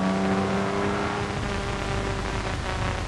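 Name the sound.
Jaguar race car accelerating hard off the starting line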